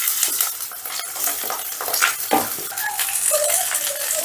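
Basmati rice stirred and dry-fried in a pan for Basanti pulao, a steady close sizzle with repeated scraping and rustling strokes of the spoon through the grains, with no talking.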